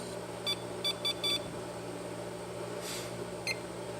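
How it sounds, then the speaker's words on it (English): A Supermicro server beeps faintly on power-up over a steady fan and machine hum: a string of short, evenly spaced electronic beeps, then a single later beep. "Hit the power button. Again, you're going to see the red lights on the controller card. You're going to hear it beep"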